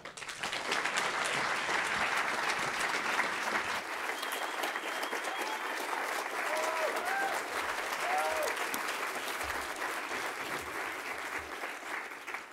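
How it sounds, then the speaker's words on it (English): An audience at a climate action talk gives a speaker long, steady applause, the full clapping continuing for about twelve seconds, with a few faint cheers and whoops in the middle. "So please give a round of applause to Dr."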